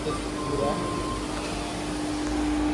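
A centrifugal pump running during a maintenance check, a steady continuous mechanical hum with a faint tonal whine, heard close and even throughout, with a voice speaking briefly over it.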